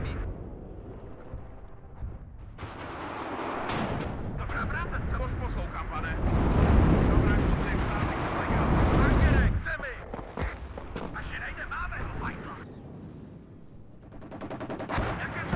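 Artillery and machine-gun fire rage in a WARNO video game battle against French forces, dense overlapping booms and rattling bursts swelling and easing, with someone talking over the combat.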